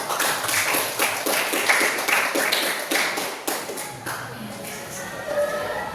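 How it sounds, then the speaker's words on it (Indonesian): A classroom of students claps for a student group in a dense, rapid patter of hands that holds steady for several seconds and then thins out, with voices under it. "Tepuk tangan untuk kelompok 4."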